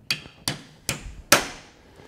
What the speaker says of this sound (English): Go ahead and tap your socket back on there